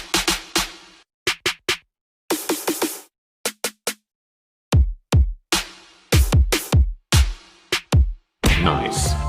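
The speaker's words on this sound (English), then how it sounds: "In snare I also find a random samples and it sound like this." Crisp electronic snare hits play in short bursts and patterns, separated by silences, then end in a brief busier, noisier stretch.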